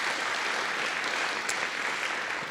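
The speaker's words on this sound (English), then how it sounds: "Let's give them a big round of applause, CCPTA," Audience members at a school Reflections awards ceremony clap together in a sustained, dense burst of applause, steady and fairly loud throughout with no speech over it.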